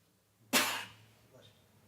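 A single sharp sneeze in a meeting room, close and fairly loud, fading quickly into quiet room tone.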